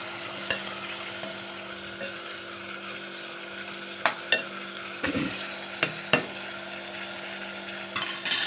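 Cluster beans cooking in hot oil in a pan, a soft steady sizzle with a low hum beneath and a few sharp utensil clinks and scrapes scattered through it.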